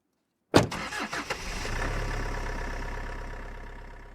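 A car engine cranks and catches with a sharp start, a few uneven bursts as it fires, then settles into a steady, fairly loud idle that slowly fades.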